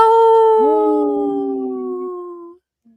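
A person imitates a wolf howl on a radio broadcast, a long sustained wavering tone that slides and fades out over a few seconds, with a second voice joining.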